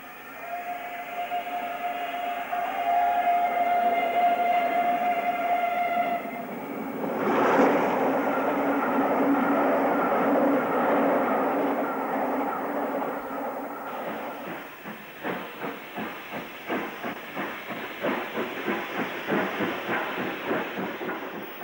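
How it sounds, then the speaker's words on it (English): Southern Railway steam locomotive 34067 Tangmere of Salisbury shed works the London-bound Atlantic Coast Express, with a sustained whistle-like hiss and roar that gives way to a rapid rhythmic exhaust beat near the end. "The London-bound Atlantic Coast Express has 34067 Tangmere, also of Salisbury Shed, in charge on its"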